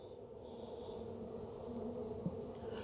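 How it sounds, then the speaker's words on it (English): Honey bees buzz around the opening of a newly transferred hive, a soft continuous drone of many wings close by with faint shifts in pitch and no talk. "You can see these bees here starting to fly around the opening"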